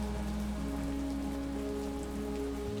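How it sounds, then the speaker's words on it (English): Heavy rain pours in a video game, a steady hissing patter of drops on surfaces with a low constant hum beneath, even and unbroken throughout. "Man, when it rains it pours."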